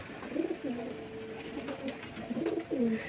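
Domestic pigeons in a loft coo repeatedly in soft, rolling phrases, several calls overlapping at moderate distance against a quiet background.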